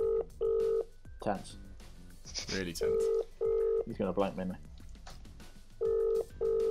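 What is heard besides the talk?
telephone ringing on an outgoing call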